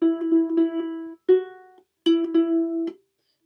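Ukulele strummed close and clear for the opening of a song, bright ringing chords in short bursts with gaps between, sharp percussive taps on the instrument's body marking the strokes.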